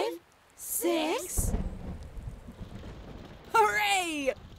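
Cartoon thunderstorm with a low rumble of thunder rolling in after a brief voice, a soft rain-like hiss beneath, then another short voiced sound near the end.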